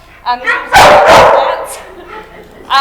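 A shelter dog lets out loud, sharp barks in a quick burst, with voices talking around it in an indoor meeting room.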